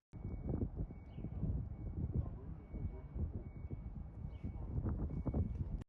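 Basic city ambience texture laid into a sad slowcore beat in FL Studio: a continuous mid-loud wash of traffic rumble, indistinct voices and scattered street noise, with a thin steady high tone running through it.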